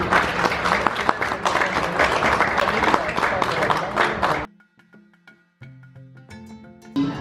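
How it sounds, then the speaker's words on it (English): Dense applause from a crowd at an FGC Sokoto school reunion, loud and sustained for over four seconds before cutting off abruptly, followed by quiet tones and a brief voice. "let's give her a hand of applause"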